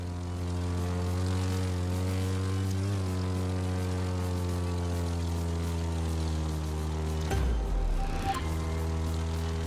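Propeller airplane engine in The Crew 2 racing game, a steady loud drone with strong harmonics throughout, briefly broken by a rougher burst near the end as the plane maneuvers.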